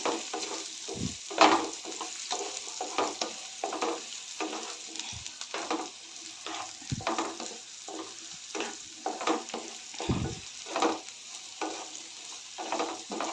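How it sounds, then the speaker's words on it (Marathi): Chopped ridge gourd sizzles in hot oil in a pan, with repeated scraping stirs of a spatula over a steady frying hiss, fairly close and with no talking. "दोडका तेलामध्ये परतून घेतल्यावर भाजी लवकर शिजते"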